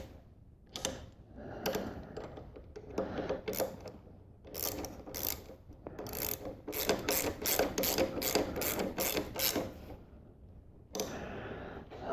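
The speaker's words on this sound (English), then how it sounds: "Just tighten these up. These are actually lock nuts here on the bottom." A wrench ratchets as lock nuts on a handlebar clamp are tightened, giving bursts of quick, close clicking that speed into steady runs of ticks with short pauses between.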